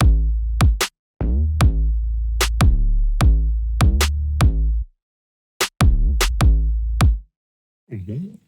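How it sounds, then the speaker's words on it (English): A punchy drum beat of kick and snare hits repeats in a steady groove, pauses briefly, then starts again before cutting off. "And so that plus a snare drum that I dragged in sounds like this."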